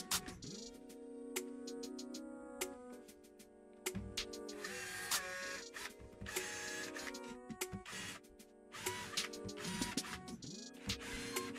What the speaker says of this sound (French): je n'ai plus qu'à percer à la bonne profondeur pour faire les avant-trous pour les vis